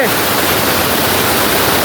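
Roaring water of Sap Sa Kaeo waterfall in forest near Ban Khao Phluang, Bueng Sam Phan, Phetchabun: a loud, dense, steady broadband rush filling the whole moment without pause.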